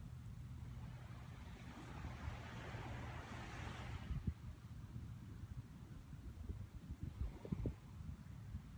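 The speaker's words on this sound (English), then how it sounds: "As you hear the waves in the background" Ocean waves wash softly in the background, a quiet, low rumbling surge with one wave swelling and receding, mixed with faint wind.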